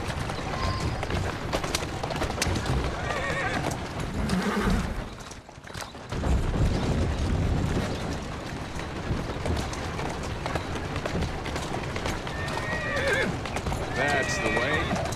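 A horse whinnies amid steady clopping hooves in the video game Assassin's Creed Syndicate, with people talking over it; a brief lull midway before the hoofbeats and neighs resume.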